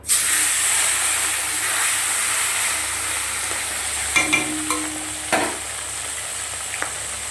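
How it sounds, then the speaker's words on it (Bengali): Fish frying in oil in a wok, a continuous close hiss and sizzle with a few sharp clanks and scrapes of a spatula near the end. "কড়াই দেখো তেল দেওয়া হয়ে গেছে। মাছগুলোকে ভেজে নেব।"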